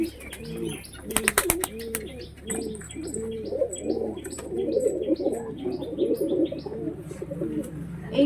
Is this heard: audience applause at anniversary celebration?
no